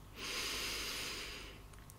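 One slow, steady breath drawn in through the nose, close and soft, rising and then fading over about a second and a half, with no talking.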